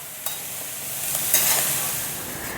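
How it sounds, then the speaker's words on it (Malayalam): Chopped spinach for a Kerala coconut thoran is stirred and sautéed in a pan, giving a loud, close, bright sizzle with a few quick scraping strokes, over a short stretch without speech. "അരിഞ്ഞു വെച്ചിട്ടുള്ള ചീര ചേർത്ത് കൊടുത്തിട്ടുണ്ട്. നന്നായിട്ട് ഇളക്കി യോജിപ്പിക്കുക."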